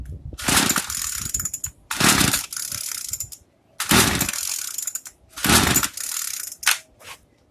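A Craftsman string trimmer's small engine is cranked over and over in several rough, ratcheting bursts with short pauses between, never catching and running.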